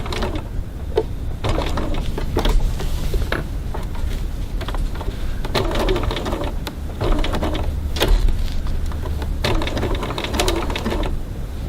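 Domestic sewing machine stitching and back stitching along piping, a rapid mechanical whirring chatter running in bursts with short pauses between, close and loud.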